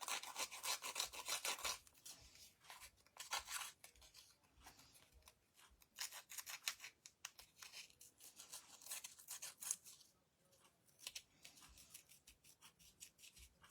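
A small handheld craft cutting tool, used like scissors, snips and rasps through material in quick, irregular bursts of crisp scraping strokes, close and faint, with a short pause near the middle.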